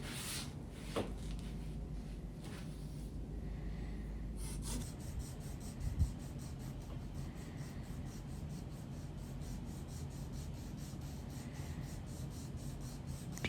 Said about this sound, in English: take some sandpaper, just like I'm doing here, and going up and down on it